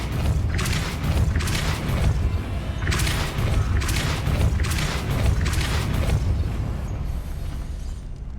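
A Depulso spell cast in the video game Hogwarts Legacy, heard as a dense, continuous magical rush of rumbling booms and bursts, with repeated bright surges layered over a loud, steady low roar.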